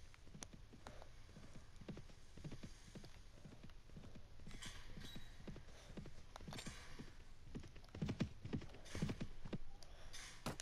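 A horse's hooves clip-clop in a steady walking rhythm within the medieval combat game Mount and Blade, soft but continuous, with a few heavier thuds near the end.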